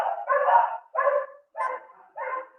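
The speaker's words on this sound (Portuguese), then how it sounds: "Se escuta o barulho do cachorro aqui, é porque meu pai tá chegando" A dog barks as the family's father arrives home: four loud, close bursts of barking with short pauses between them, and no talking.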